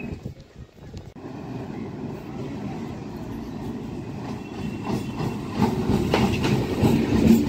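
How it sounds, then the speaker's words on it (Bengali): A train rolls across a railway bridge over the Kestopur canal near Bidhannagar Road station in Kolkata. The rumble and clatter are steady and fairly close, swelling slightly toward the end, with wind buffeting the microphone. "আর এই খালের ওপরে এই ব্রিজ, যে ব্রিজ দিয়ে এখন ট্রেনটা যাচ্ছে।"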